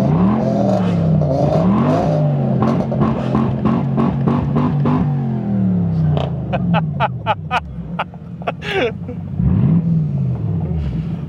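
A modified Jaguar XJ8 V8 engine is revved repeatedly, rising and falling in loud swoops, then a series of sharp blips and crackles before a final rev.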